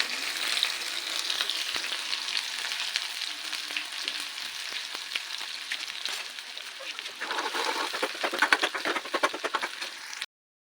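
Cumin, small shallots and garlic fry steadily in hot oil, a dense close sizzle with scattered crackles and pops that swells louder near the end before cutting off.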